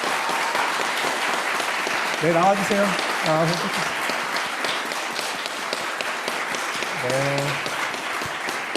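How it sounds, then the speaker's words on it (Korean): A church congregation at an Easter service claps in welcome for newly baptized members, a steady patter of many hands that carries on throughout while someone speaks briefly over it. "다 같이 박수로 환영하겠습니다."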